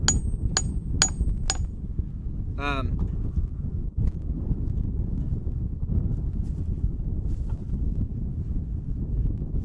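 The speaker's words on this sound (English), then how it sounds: "I'm going to start to tap it on." Sledgehammer head tapped down onto a new handle outdoors: four sharp metallic knocks in quick succession, then a ringing strike, over steady wind noise and low rumble.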